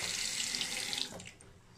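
Water runs from a newly replaced washbasin faucet in a steady close splashing stream into the basin, then eases off and quiets as the tap is turned down.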